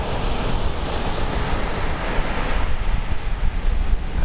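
Ocean surf breaking steadily on a San Diego beach, a dense continuous wash of waves with wind buffeting the microphone, loud and close with no talking.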